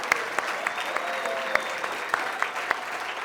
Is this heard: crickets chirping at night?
no